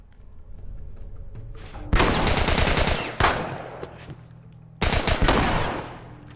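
Automatic gunfire from a weapon in The Last of Us Remastered, two loud sustained bursts of rapid shots separated by a pause and a single thump, over low in-game background rumble.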